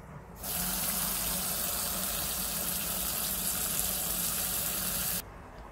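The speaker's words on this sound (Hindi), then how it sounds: "अब इनको सॉक करने के लिए पानी डालती हूँ।" Water gushing steadily from a tap into a pot of three cups of rice to soak it, a loud continuous rushing pour that starts abruptly and stops just as suddenly about five seconds later.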